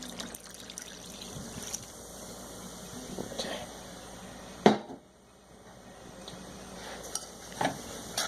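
A glaze mixture with Dr Pepper for ham being stirred in a pan before heating, quiet liquid swishing and sloshing with a few sharp clinks against the pan, close and faint.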